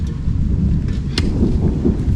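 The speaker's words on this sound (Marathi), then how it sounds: "बघा ढगांचा आवाज" A low, heavy rumble of thunder rolls on continuously, with a brief sharper crack partway through and no voices.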